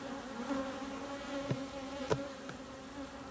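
Honeybees in a hive drone in a continuous close buzz, with a few sharp clicks or knocks from handling the frames standing out over the hum.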